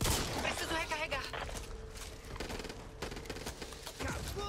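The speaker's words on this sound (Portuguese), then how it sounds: "Fuzil de assalto!" Assault rifle fire in the zombie shooter Back 4 Blood, rapid crackling bursts of gunfire blended with dense combat noise, while someone speaks over the action.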